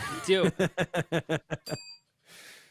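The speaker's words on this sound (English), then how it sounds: "You still got that bell?" A small hand bell rung during a podcast conversation, a quick run of about eight bright, even strikes following a brief burst of speech, near and clear, then a short pause.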